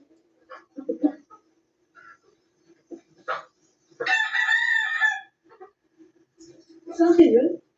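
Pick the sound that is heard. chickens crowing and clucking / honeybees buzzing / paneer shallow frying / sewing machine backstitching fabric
chickens crowing and clucking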